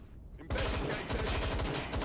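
Gunfire in Watch Dogs Legion: after a quiet half-second, a sudden burst of rapid automatic shots erupts and continues as a dense, loud volley.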